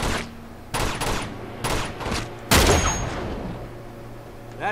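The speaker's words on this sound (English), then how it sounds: "What's she shooting at?" Gunfire in the video game Uncharted 2 at a monastery: loud bursts of shots crack and echo in several separate volleys, one especially heavy blast midway, with no talk over them.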